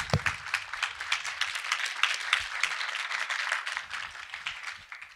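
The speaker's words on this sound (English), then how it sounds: "round of applause." Conference audience at a Ruby programming event applauding a podcast recording, a dense wash of many hands clapping steadily for about five seconds, moderately loud, then tapering at the end.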